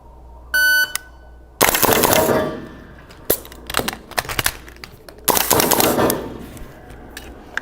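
A start buzzer sounds briefly, then rifle shots fire during a VirTra marksmanship training simulator drill, coming as sharp, loud, close cracks in uneven bursts with short gaps between them.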